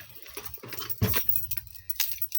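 Ignition keys for a backhoe jangle in a few quick metallic bursts, close and fairly quiet, with some handling noise between them.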